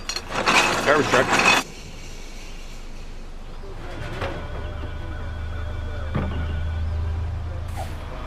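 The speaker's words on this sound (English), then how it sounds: "Garbage truck." A garbage truck on a city street gives a loud hiss of air brakes, followed by the low rumble of its engine idling and moving nearby, with a few mechanical clanks.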